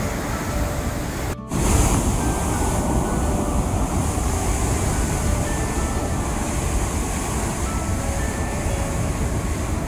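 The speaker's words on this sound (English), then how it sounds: "can't believe the force of this water. We're getting absolutely soaked here." Rushing water of the Nile river near Murchison Falls, a loud steady broadband roar heard close up that continues throughout, briefly interrupted by a short crackling burst near the start.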